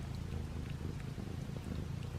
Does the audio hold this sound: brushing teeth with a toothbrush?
no